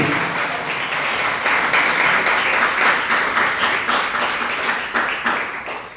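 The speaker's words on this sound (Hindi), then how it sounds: "अब बजाएंगी महिलाएं ताली" An audience at a Hindi religious discourse claps hands together, a dense, loud round of applause with clear individual claps swelling in the middle and easing off toward the end, no voices over it.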